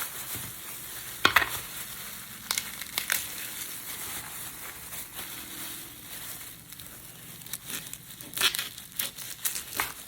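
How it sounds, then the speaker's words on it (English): Garlic cloves are shelled by hand, dry papery skins crackling and crinkling in quiet close bursts with a few sharper snaps and rustles between soft handling noises. "The first thing you want to do is go ahead and shell your garlic."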